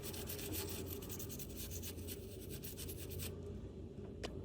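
A soft brush scrubs a water-damaged DJI Mini 4 Pro drone circuit board wet with isopropyl alcohol, giving a quiet, close, steady rasping rub with quick strokes that stop near the end, leaving a faint tick.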